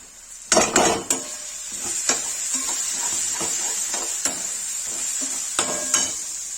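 Onions frying in a pan with turmeric and red chilli for chole, a steady close sizzle punctuated by sharp clanks and scrapes of a spoon stirring against the metal.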